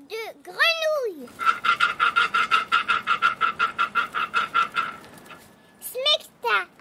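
A steady series of about twenty rhythmic frog croaks pulses evenly, framed by brief high, swooping voice sounds at the start and end.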